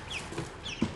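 Newly hatched ducklings peep in brief, faint chirps against a low hiss, close by and with no voices.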